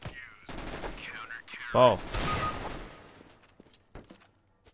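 A burst of rapid gunfire from the game CS:GO, with a bomb site match under way. It rattles loudly for about a second after a short spoken exclamation, then fades into scattered quieter shots and clicks.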